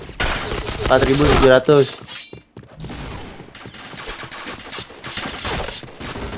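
Gunfire in the Point Blank video game comes in a burst of loud close shots, followed by quieter game sounds under talk from a player.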